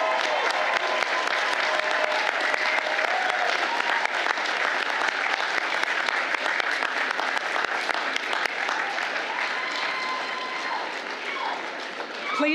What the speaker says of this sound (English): Join me in offering a round of applause to thank your family, friends, and instructors